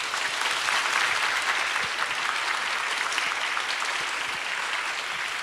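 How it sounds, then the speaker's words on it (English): A lecture hall audience claps in sustained, dense applause after a talk by a British neurosurgeon at a medical university, steady and loud throughout without any voices over it. "I think that we should give a huge round of applause for Dr. Gенrі Марш."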